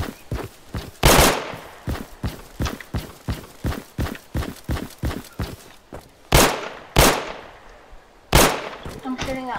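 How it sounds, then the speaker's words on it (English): Repeated gunshots in the video game America Simulator, a steady run of sharp single shots roughly every half second, then a few louder, heavier blasts spaced apart toward the end. "Lucius, I just shot bullets so we get attention."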